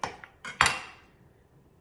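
A knife cuts through citrus fruit such as lemon for an immunity-boosting juice, giving a few sharp clacks of the blade against the cutting board, the loudest one near the middle, followed by a quiet tail. No one speaks.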